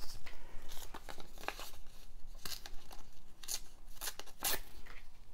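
Paper torn by hand for ephemera and collage work: a run of short, crisp rips and crinkles at close range, scattered irregularly and sharpening into a louder tear near the end, with no talk.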